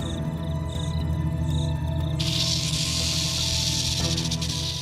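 A dry, continuous buzzing rattle like a rattlesnake's warning, steady throughout and joined midway by a harsher hiss, set against a low ambient hum.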